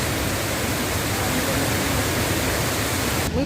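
The Milky Waterfall near Lake Ritsa in the snowy mountains of Abkhazia pours with a loud, unbroken broadband rush of falling water, close by and steady throughout, with no talking.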